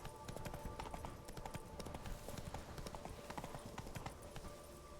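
Roach the horse's hooves clip-clop in a steady, brisk rhythm throughout a video game ride. The footfalls are continuous but fairly faint, under a low layer of game ambience.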